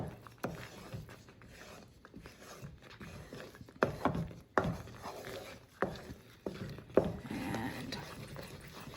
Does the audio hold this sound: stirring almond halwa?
yes